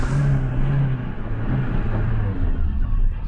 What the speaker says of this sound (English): The Panda's developed an exhaust leak.